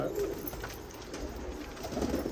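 Several pigeons, kept birds at a Punjab loft in Tarn Taran, coo softly and steadily nearby over low background noise.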